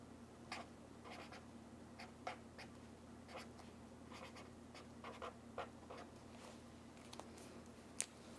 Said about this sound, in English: I'm going to write the name of the month with the medium point side